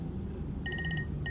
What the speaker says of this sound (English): Phone is ringing over here.